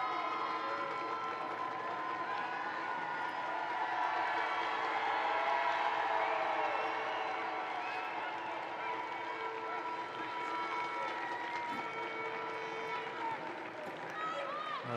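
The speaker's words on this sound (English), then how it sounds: "the big cheer that you can hear" A crowd at a women's football match between Blackburn Rovers and Newcastle United cheers and applauds in a sustained, swelling roar, while a commentator talks over the noise.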